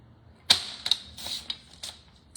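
A paper trimmer or blade slicing card stock down to size, heard as a handful of sharp, close clicks and short cutting strokes in a quiet room.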